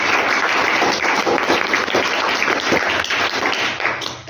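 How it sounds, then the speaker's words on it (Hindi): Audience applause for a children's general-knowledge quiz team, steady dense clapping from a crowd, sustained at even loudness and tapering slightly at the end, with no talk over it. "टीम सौरभ के लिए भी ताली बजाइए।"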